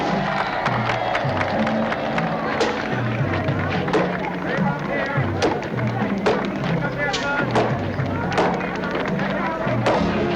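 A large crowd at a Maasai gathering cheers and shouts for one of their young men, a dense continuous roar with repeated thuds and footfalls close by, sustained throughout with no pauses.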